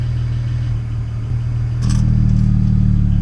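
The exhaust flap on a BMW 335 snaps open with a brief metallic rattle, heard from inside the car over a steady low engine drone that rises slightly in pitch and level once the flap opens.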